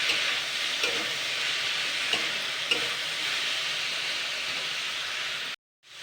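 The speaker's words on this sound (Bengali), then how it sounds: "তো এটাকে কিন্তু সুন্দর করে আমি ভেজে নিয়েছি।" Chopped onion and tomato fry in a pan with a steady, close, even sizzle and a few soft stirring scrapes, then the sound cuts off abruptly near the end.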